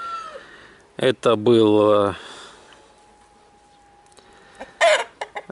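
A rooster crows once loudly and close, a long drawn call, and a brief squawk follows later, with a short spoken phrase and quiet background in between.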